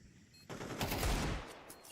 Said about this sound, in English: Trying to hit that headshot Deagle, and he will.